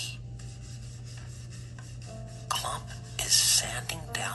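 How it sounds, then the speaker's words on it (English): Long lengths of wood sanded by hand with a giant sheet of sandpaper in a barn woodshop, giving steady soft rasping strokes under a low hum, growing louder and harsher in bursts toward the end. "sanding down some long bits of wood using a giant sheet of sandpaper"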